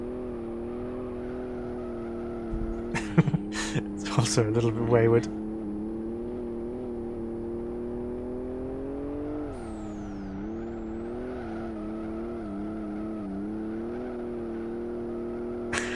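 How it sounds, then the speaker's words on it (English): A turbocharged six-cylinder car in the racing game Live For Speed drones at a steady pitch, rising and then settling, while someone talks over it and a few sharp clicks sound early on. "But it's got that 6-cylinder sound to it."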